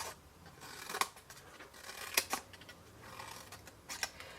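Scissors snipping small paper squares for a Stampin' Up! Noble Peacock double stack box, quiet isolated crisp cuts spaced irregularly against a faint background.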